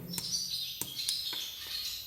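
A motorcycle turn-signal flasher chirps and trills in short high bursts, with a few sharp clicks between calls, fairly close and moderately loud.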